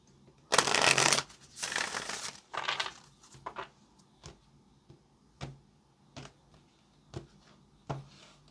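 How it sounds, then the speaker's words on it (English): Tarot cards being shuffled: two long, loud riffling bursts, a shorter one, then a run of sharp single taps and flicks spaced about a second apart, close and alone with no talk. "Let's get our last shuffle right now."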